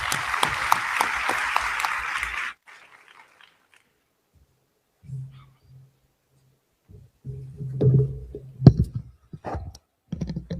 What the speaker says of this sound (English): Ladies and gentlemen, please join me in giving a warm welcome to Mr. Lario.